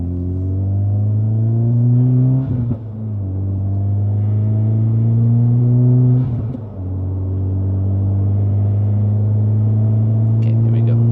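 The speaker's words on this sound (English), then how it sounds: "we're gonna do about 3 minutes of highway driving" A 2024 Acura Integra cruises on a highway in Florida, with a loud, steady engine drone and road rumble from inside the cabin, rising smoothly and dipping briefly twice as the car shifts gears.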